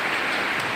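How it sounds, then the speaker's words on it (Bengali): Steady rainfall in Sirajganj, Bangladesh, breaking a fierce heatwave: a constant close hiss of drops on surfaces, brief and unbroken. "শান্তির বৃষ্টি হচ্ছে"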